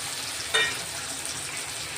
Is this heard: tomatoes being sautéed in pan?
yes